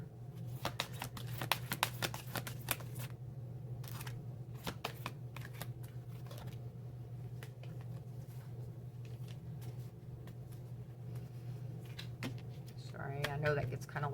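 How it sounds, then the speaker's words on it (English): Cards are shuffled in repeated quick riffling bursts over a low steady hum, with a brief voice near the end. "I know that gets kind of loud when I'm shuffling."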